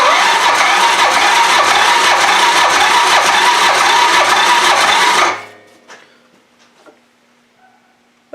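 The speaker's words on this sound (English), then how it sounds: "So usually when you do a compression test, you should open the throttle wide open." A CanAm Quest 500 ATV engine cranks with the throttle wide open during a compression test, a loud steady rhythmic churning for about five seconds that stops abruptly, followed by faint clicks and rattles.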